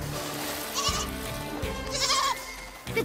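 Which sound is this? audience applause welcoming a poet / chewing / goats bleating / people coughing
goats bleating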